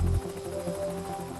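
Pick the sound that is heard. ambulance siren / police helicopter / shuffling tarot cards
police helicopter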